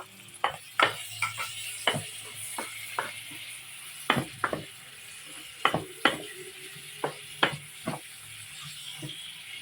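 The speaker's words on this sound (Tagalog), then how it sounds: "Halo ko na ang isda" Fish fries in a pan with tofu for sisig, with a spatula stirring and scraping it, giving a soft steady sizzle broken by a dozen or so sharp clanks and scrapes at irregular intervals, close up.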